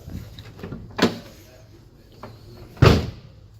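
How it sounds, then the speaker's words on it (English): A vehicle door shuts twice in a roughly two-second gap, each a sharp, close thud, with quieter latch and handle sounds around them. "Make sure that the doors open and close properly."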